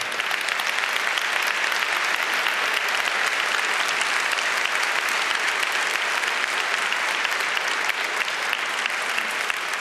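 A large hacker conference crowd applauds at a keynote, a dense, loud, unbroken roar of clapping that holds steady for the full stretch with no voices rising above it.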